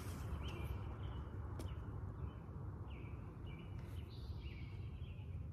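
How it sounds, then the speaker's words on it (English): Outdoors by a vegetable garden, distant birds sing short, thin whistled phrases at scattered intervals, faint against a steady hiss of wind and background noise. "Hear all the birds."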